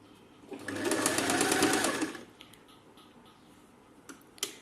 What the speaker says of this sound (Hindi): हम यहाँ से शोल्डर्स पर सिलाई लगा देंगे